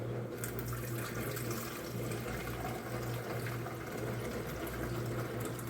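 Water pours steadily into the reservoir of a Keurig coffee maker, a continuous rushing splash lasting several seconds over a low hum, close and fairly loud with no talking.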